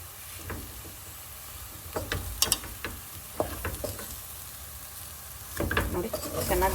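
Plantain frying in a pan on the stove, a soft continuous sizzle with scattered spoon clicks and stirring, close and fairly quiet, building louder near the end.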